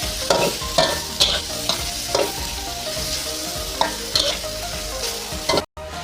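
Shrimp stir-fried in a wok for glass-noodle baked shrimp, loud close sizzling with repeated rhythmic spatula scrapes and clanks throughout, a brief dropout near the end.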